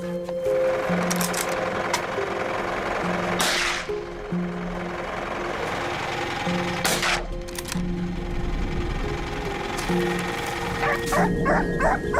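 Hunting dogs on a mountain hunt bark repeatedly in sharp bursts, several loud yelps spaced across the stretch, with yips and whines between, close and lively.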